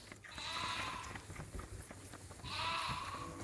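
Sheep bleating at night in a farm setting with ewes and young lambs, two drawn-out bleats separated by a quiet pause, fairly close and clear with no talking.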